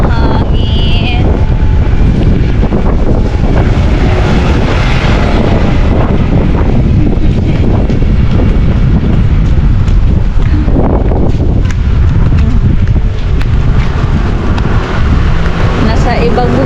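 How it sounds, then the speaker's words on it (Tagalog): Strong wind roars across open sea, buffeting the microphone with a loud, constant rumble while a boat moves over the water, and voices talk intermittently underneath. "Ang hangin."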